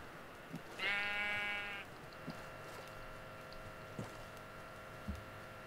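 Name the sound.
sheep bleating in Minecraft video game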